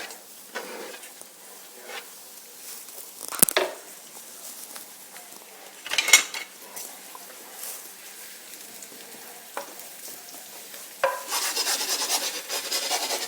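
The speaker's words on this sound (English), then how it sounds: "I put my garlic into the oil here." Garlic cooks in oil in a pan at a gentle heat, giving a soft, steady sizzle that is broken by scraping stirs and a few louder clatters.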